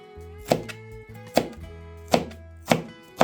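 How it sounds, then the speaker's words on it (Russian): A knife chops sweet bell peppers of different colours into thin strips on a cutting board, giving five sharp, evenly spaced close-up chops with quiet pauses between them and no talking. "Нарезаем сладкий перец. Я режу вот такой соломкой"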